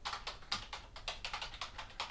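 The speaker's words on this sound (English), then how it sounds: "I enjoy the feel on the keyboard as well" Quiet clicking of a computer keyboard in a home studio, keys tapped in a quick, steady rhythm of soft, close keystrokes with no voices.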